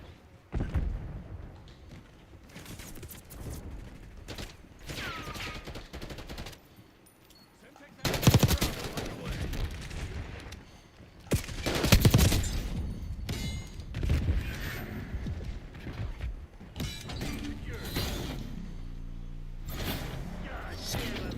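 Bursts of automatic and single gunfire crackle through a Call of Duty Black Ops 6 match, with sharp loud shots, explosive impacts and radio callouts heard between them.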